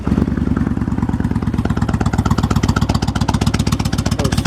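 A 2007 Kawasaki Vulcan 1600 Nomad motorcycle with dual mufflers fires up and settles into a loud, close, rhythmic V-twin idle, its steady pulsing thump continuing throughout.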